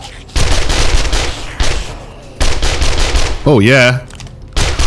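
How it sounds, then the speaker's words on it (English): Rapid automatic bursts from a submachine gun in the survival game 7 Days to Die, several loud sustained strings of fire broken by short pauses, with a voice talking between and over them. "Let's try that SMG, eh?"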